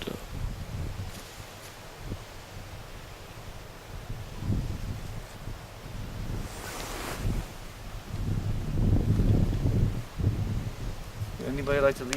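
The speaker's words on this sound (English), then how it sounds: "That wind really picked up." Strong night wind gusts around the grounds of Fort Mississauga, buffeting the microphone in rising and falling surges that build louder toward the end, with voices speaking intermittently.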